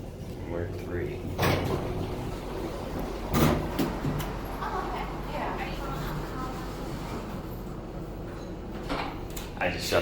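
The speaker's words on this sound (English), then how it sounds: "I just shut the door on someone." The sliding door of a Dover/Miami Impulse traction elevator in a parking garage slides shut with a few soft thumps and rattles amid machinery hum, and a person talks over it.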